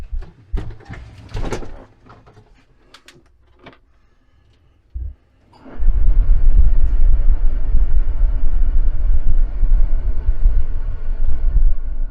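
A farm tractor used for windrowing sudangrass cranks over after a few clanks and knocks, then roars into a loud, steady, close-up rumbling idle that continues to the end.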